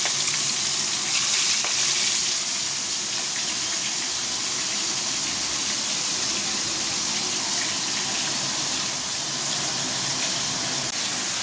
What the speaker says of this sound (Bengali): এদিকে হচ্ছে বেগুন ভাজা, আর এদিকে হচ্ছে মাছের ঝাল করবো, তার জন্য মশলা কষা হচ্ছে।